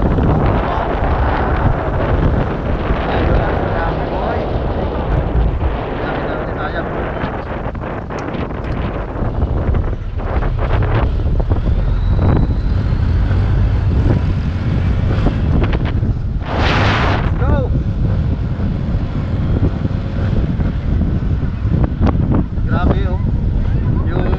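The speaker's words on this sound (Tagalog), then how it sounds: "Alon at saka hangin sobrang lakas." Strong wind buffets the microphone while a boat pushes through rough water, waves slapping and engine rumbling in a constant loud roar.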